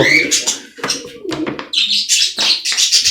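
Pet budgie and cockatiel chirping close by while being bathed, with a run of short, bright tweets and calls coming in rapid bursts across the moment, some brief lower sounds between them.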